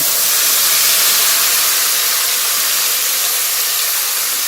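Ground spice paste sizzling in hot oil while being fried for navratan korma: a steady, loud, bright hiss that holds unbroken throughout, with no voices.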